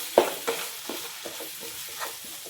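A spoon stirs mutton liver masala with curd in a hot pan, giving a few soft scraping strokes over a low, steady sizzle with no talking.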